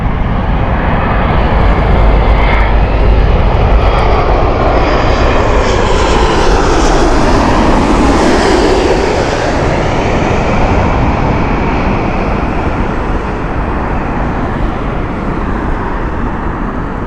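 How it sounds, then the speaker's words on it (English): Etihad Boeing 787 engines roar loudly and steadily at Heathrow, the tone sweeping as the jet passes nearby. "So this is the 787 of Etihad."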